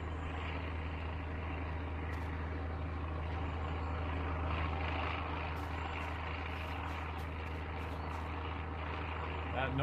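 A plane-like engine drone in the survival game SurrounDead hums low and steady throughout, a constant mechanical rumble with faint clicks over it.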